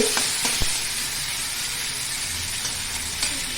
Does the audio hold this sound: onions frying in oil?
yes